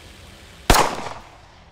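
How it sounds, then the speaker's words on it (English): A single sharp gunshot in the Identity crime video game cracks loudly after a quiet lead-in, then a short decaying tail rings out. "Get out now. I will shoot."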